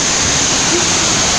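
Kuang Si Falls in Laos roars as a continuous loud rush of falling water, a dense, steady wash of noise close by with no break.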